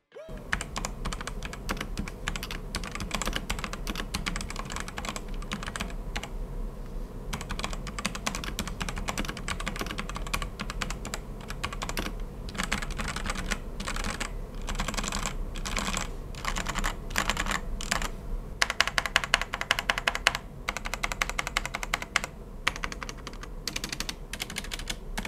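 Rapid, steady typing on a wired Tsunami MK-03 TKL mechanical gaming keyboard, with dense clacking keystrokes heard close up and continuing without pause or speech.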